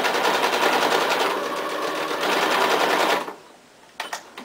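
A sewing machine stitches around the edge of a felt pizza with a fast, steady rattling buzz for about three seconds, then stops, followed by a couple of faint clicks.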